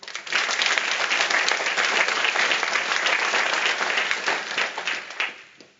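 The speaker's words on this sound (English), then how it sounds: "Please give yourselves again a big round of applause." Graduates and guests at an EMBA graduation recognition ceremony break into loud, dense applause that sustains for about five seconds before thinning into scattered claps and fading out.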